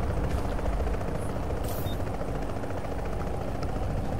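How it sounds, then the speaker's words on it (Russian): Helicopter in the video game The Division, a steady loud rotor drone with constant chopping throughout, heard alone with no talk. "А, будем постоянно эти вертушку вызывать."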